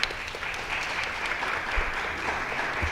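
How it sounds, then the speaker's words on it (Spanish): Audience at a university forum on education in post-revolutionary Mexico applauding a speaker, a dense, steady round of clapping heard up close and continuing for the whole stretch. "Le damos un aplauso, por favor, gracias."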